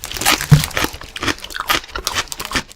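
Crisps crunch close up while being eaten, a string of sharp, irregular crackling bites and chews with small gaps between them, with no voices.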